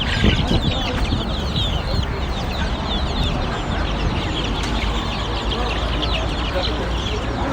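Native Egyptian chickens cluck continuously nearby among other poultry, a busy, steady clucking with occasional louder calls, while people talk over it.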